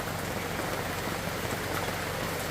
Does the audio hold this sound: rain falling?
yes